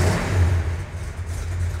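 A Dodge Super Bee's big block V8 rumbles loudly and close, its revving engine holding a deep throaty roar with a lumpy idle character throughout.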